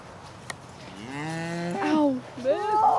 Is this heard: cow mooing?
yes